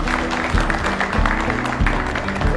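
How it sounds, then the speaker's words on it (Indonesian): An audience at a poetry recital claps together, a loud, fairly dense round of hands with a few sharper accents and some voices underneath. "Tepuk tangan."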